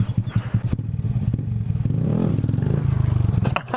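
Stunted-out Honda Grom motorcycle engine revving under throttle during wheelie practice, a close, loud buzzing drone that rises and holds with choppy pulses, mostly alone with no talk.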